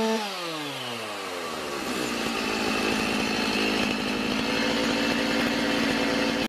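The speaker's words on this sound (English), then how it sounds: "This Farm Boss chainsaw," A Stihl Farm Boss chainsaw engine runs loud and close throughout, revving up at the start and then holding a steady high-pitched buzzing drone with no voices.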